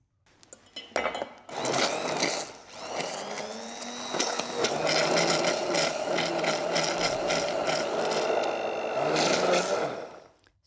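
A blender purées watercress soup. It starts with a few short bursts, then runs as a loud, steady whir that churns for several seconds and stops abruptly.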